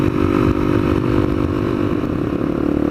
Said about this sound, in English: This is my dream bike, the 899 Panigale.